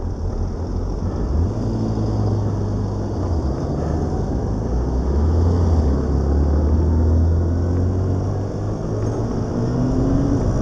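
An old motorbike scooter rides along, its engine a steady, loud droning rumble that rises and falls slightly, with no talking.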